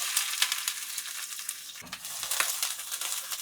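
Onions frying in hot coconut oil for a Jamaican-style herring rundown: a continuous close crackling sizzle with occasional stirring scrapes.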